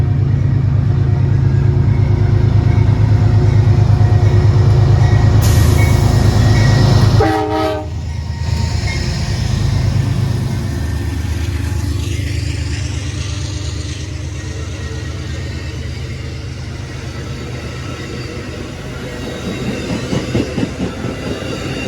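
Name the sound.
Amtrak passenger train passing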